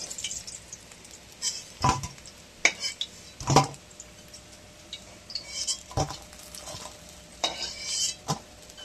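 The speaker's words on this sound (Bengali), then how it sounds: "এবার আমরা মাছ তুলে নিচ্ছি, এই দেখুন ভালো কত সুন্দর ভাজা হয়েছে" Fried fish pieces are lifted one by one out of a pan of hot oil with a metal utensil; sharp clanks and scrapes come at irregular intervals over a soft, steady sizzle, with no talking.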